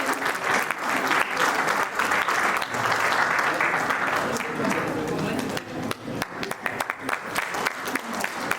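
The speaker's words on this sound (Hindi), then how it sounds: "जोरदार तालियां होनी चाहिए इनके लिए।" Audience at a JCI Raipur award function gives loud, sustained applause that thins toward the end into scattered individual claps, with voices faintly mixed in.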